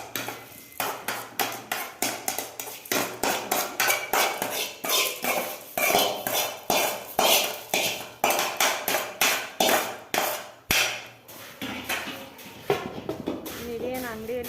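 Puffed rice being mixed with chilli and spices in a bowl for a homemade crunchy churumuri snack, heard as a busy run of rapid metallic clinks and scraping taps from a spoon against the bowl, fairly close and steady for most of the stretch.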